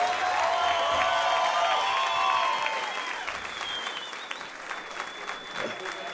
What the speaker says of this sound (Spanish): Un aplauso para el Chivo.